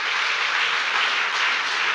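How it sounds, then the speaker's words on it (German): Audience applause after a conference talk at re:publica 2014, a steady dense wash of clapping heard at a fair distance, with no voices standing out. "Einen herzlichen Applaus."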